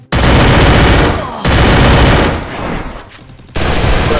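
Loud, close automatic gunfire in the Free Fire battle royale game comes in dense sustained bursts. Brief gaps separate the volleys, and the final burst cuts back in abruptly.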